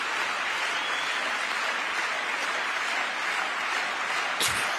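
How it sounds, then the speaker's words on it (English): An audience in a hall applauds during a presidential address to Congress, a steady, dense wash of clapping that holds evenly for several seconds, with a brief sharper burst near the end. "And the crowd goes wild."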